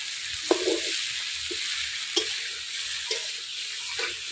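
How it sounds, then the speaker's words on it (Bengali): Shrimp frying in foaming hot oil for a coconut-milk prawn malai curry, a loud continuous sizzle broken by periodic stirring scrapes, close and with no talking. "হ্যাঁ চিংড়ি মাছ ভাজলে তো ফেনা উঠছেই বাবা"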